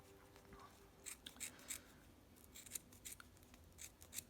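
Scissors snip through fabric in a quiet series of close, crisp cuts with an uneven rhythm, about a dozen separate snips, with no speech.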